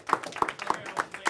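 A crowd at a campaign town-hall event in New Bedford claps in a short burst, with sharp individual hand claps at a steady rhythm, fairly close and moderately loud.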